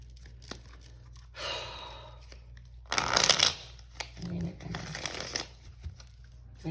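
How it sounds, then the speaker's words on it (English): Cards being riffled and bridged in a few quick bursts, close up, with breathy sounds and quiet handling noises between shuffles. "One more shuffle, they said."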